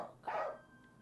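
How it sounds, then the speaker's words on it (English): A single dog bark from a video game, sharp and fairly loud, heard alone with no talk. "If I go into here and I put down a dog"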